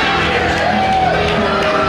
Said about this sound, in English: Dan the Dad coming out to the ringside area to a thunderous round of applause by this capacity crowd